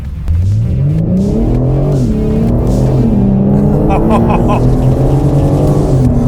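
A 2021 BMW M4 Competition engine revs hard and climbs steadily through the gears, loud and close, with a shift and rising roar.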